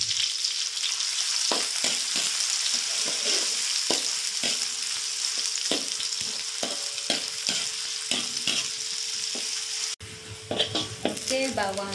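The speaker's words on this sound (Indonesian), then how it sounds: "Sekarang kita goreng dia punya bawang merah." Shallots fry in hot oil for a chicken and mushroom soup, giving a loud, steady sizzle throughout with repeated clinks and scrapes of a utensil stirring in the pan.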